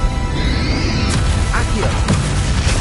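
A Confringo spell explosion in the video game Hogwarts Legacy: a loud crashing burst among continuous battle noise, with a few sharp impacts following within about two seconds.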